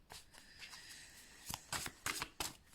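A deck of Le Normand Téléma tarot cards is shuffled by hand: soft riffling and sliding passes that grow into several quick, crisp bursts toward the end, close and quiet.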